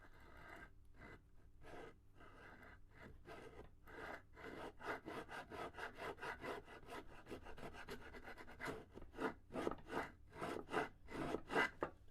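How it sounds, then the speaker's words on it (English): A hand rubbing along a wooden edge during final finishing, giving quiet, repeated rasping strokes in a steady back-and-forth rhythm, close and alone with no talk. "Just give that a little rub. Straighten that edge."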